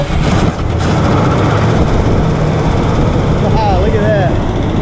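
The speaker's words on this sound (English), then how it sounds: "let's see if our free 302 and C6 transmission will run" A free Ford 302 V8 engine with a C6 transmission, with no gas in the tank, runs with a loud, steady low rumble close by, with voices talking over the noise.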